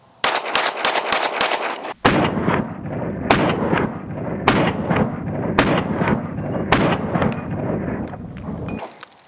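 Smith & Wesson M&P Performance Center pistol with 5-inch barrel and V-port compensator firing 115-grain rounds: a handful of sharp, loud shots in steady succession, each with a short ringing decay, preceded by a quick burst of rapid shots nearby.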